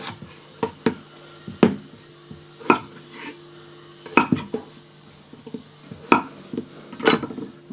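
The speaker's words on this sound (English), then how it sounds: "I want these to cook quickly, so we're just going to cut them into bite-sized pieces" A knife cuts skin-on potatoes into bite-sized pieces on a board, giving sparse, irregular knocks and clicks spaced apart with quiet gaps between them, close and distinct.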